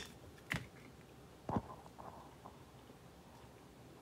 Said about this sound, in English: cut a red onion up